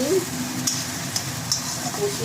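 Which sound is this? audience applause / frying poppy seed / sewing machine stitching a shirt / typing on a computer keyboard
frying poppy seed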